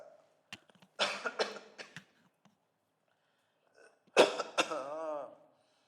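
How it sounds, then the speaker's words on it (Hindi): During a maths lesson a man coughs nearby in two separate bursts of a few harsh coughs each, with a quiet gap between them. "खांसी हो गई, कॉफी पी लेता हूं,"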